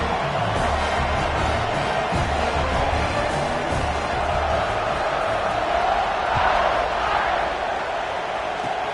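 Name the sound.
stadium crowd cheering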